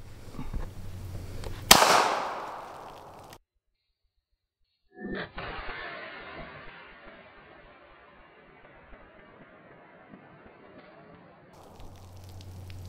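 Single sharp, loud gunshot from a Smith & Wesson SD9 2.0 pistol fired at a watermelon outdoors, followed by a decaying echo, a gap of silence, then a long faint wash of ambient noise.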